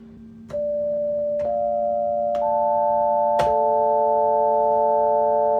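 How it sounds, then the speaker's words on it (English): Four-tone synthesizer running on a classic Mac, with sustained electronic tones entering one after another with sharp clicks, stacking into a steady four-note chord over a faint low hum. "I can select the 4 tones synthesizer."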